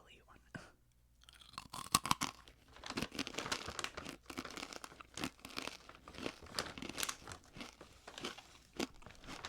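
Close, crisp crunching and crinkling as a crunchy mushroom snack is bitten and chewed, with soft rustles and a brief quiet pause near the start.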